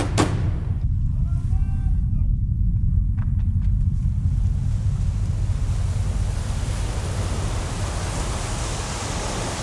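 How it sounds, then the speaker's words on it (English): Sea waves roll and wash in a steady, loud surf roar, mixed with wind rumble over the whole stretch, and a few faint higher tones come through near the start. "The sea."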